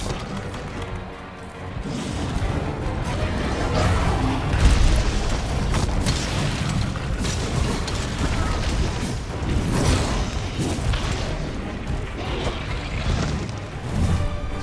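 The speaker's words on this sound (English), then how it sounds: "There's a lot of explosions," Repeated explosions and booms from the video game Monster Hunter World, a dense, loud run of blasts and crashes over a steady rumbling game soundtrack, with a brief bigger boom near the middle.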